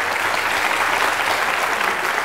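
Audience applause at a school book quiz show, a dense, even burst of clapping close up that lasts throughout without voices.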